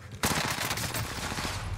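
Rapid bursts from a short-barrel gun in a battle royale video game, loud and dense for nearly two seconds after a brief quiet start, with shots running together into sustained fire.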